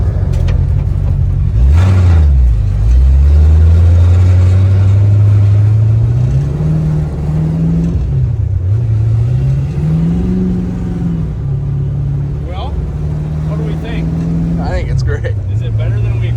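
Carbureted V8 engine swapped into an old Ford Falcon, revving up and down in steady swells and dips, loud and close, with people talking over it.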